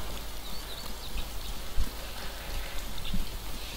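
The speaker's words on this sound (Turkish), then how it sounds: "Yine yağmur başladı." Steady rainfall in the survival game DayZ, a continuous hiss of drops on surfaces with a few soft thuds, moderate and unbroken.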